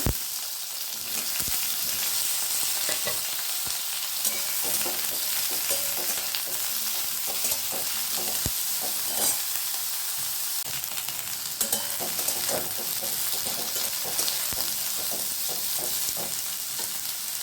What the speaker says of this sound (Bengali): বেগুনগুলো ভালোভাবে ভেজে নেব।